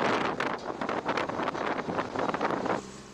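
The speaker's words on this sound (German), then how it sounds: "Trotz Windgeschwindigkeiten von bis zu 100 km pro Stunde." Strong wind roars across snowy mountains at up to 100 km per hour, buffeting the microphone in loud gusty surges before easing suddenly near the end.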